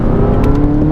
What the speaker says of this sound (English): you notice the gear changes are a little bit more punchy when you put them through